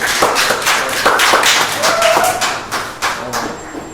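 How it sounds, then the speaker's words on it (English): An audience at a fundraiser and art show applauds a performer, Steve Jones, with steady dense clapping throughout and a faint tone near the end, close and moderately loud. "Round of applause one more time for Steve Jones."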